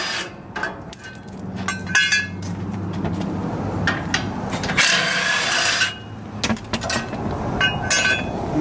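Metal tools clink and scrape against a truck's bumper cross bar as its ends are removed with a 17 millimeter wrench during an aftermarket Body Armor 4x4 bumper install, with short scattered ratcheting knocks and one longer rasping burst.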